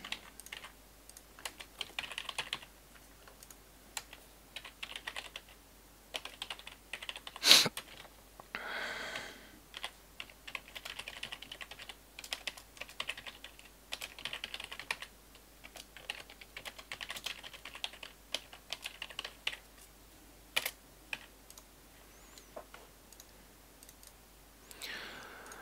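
Someone types fast on a computer keyboard while playing Forge of Empires. The soft clicks come in quick, uneven runs that go on throughout, quiet and close, with one sharper knock partway through.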